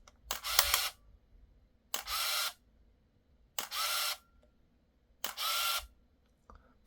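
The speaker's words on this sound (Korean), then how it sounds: "한번 4로 맞춰놓고 사진을 찍어 보도록 하겠습니다." Four quick bursts from a Canon Autoboy Lite 2 film camera shooting a four-frame sequence, each a whirring motor-driven shutter and film advance lasting about half a second, evenly spaced and close, with quiet gaps between.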